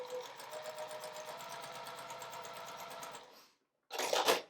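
A sewing machine stitches scrappy quilt squares with a 1/4 inch presser foot, running in one fast, steady burst of about three seconds, then a short second burst after a pause.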